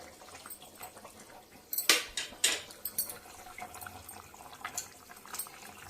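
Tamarind water is poured into a pot of sambar with potato and brinjal, making a short, soft splashing pour with light clinks, fairly quiet overall.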